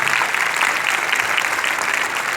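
Sustained applause from an audience at a school award ceremony, clapping steadily for the teachers, a dense, even wash of many hands without a break.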